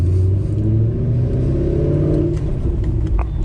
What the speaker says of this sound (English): All you really hear now is the engine noise, which is freaking awesome.